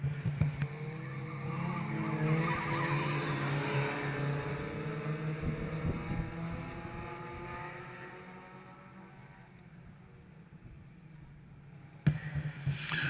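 4-cylinder crash and burn division stock cars run a 10-lap qualifier, their engines droning and rising and falling as they pass, with tire noise and a sharp knock near the end, heard at a moderate distance.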